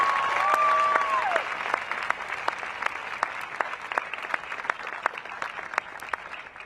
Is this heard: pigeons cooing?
no